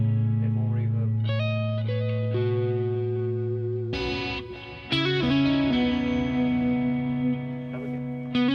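Electric guitar with a maple neck, lightly driven and washed in reverb, sustains held notes, then a fresh strum lands partway through, its tail blooming and lingering in an echoing space.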